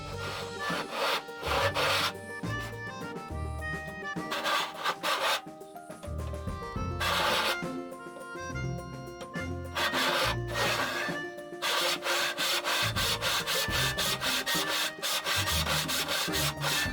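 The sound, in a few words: hand saw cutting a wooden tenon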